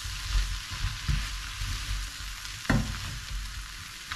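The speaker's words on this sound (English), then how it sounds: "your cup of lentils, get them in there, chuck them in, give that a quick stir" Lentils tipped into a pot of vegan chickpea curry and stirred, giving a steady close sizzle and scraping with a couple of louder clunks of spoon against the pot.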